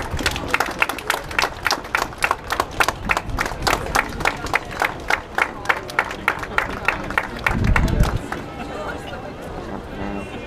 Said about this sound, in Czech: prosím, takéž mu zatleskejme